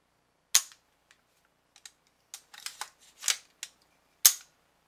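Metal parts of an AR-15 rifle action are worked during a function check, giving a series of sharp, close clicks and clacks spaced irregularly, with a crisp snap near the end, in otherwise quiet surroundings.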